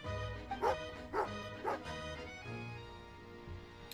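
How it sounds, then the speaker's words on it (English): A dog in the video game Genshin Impact gives three short, clear barks in steady succession over a soft game music bed, then goes quiet. "a doggy."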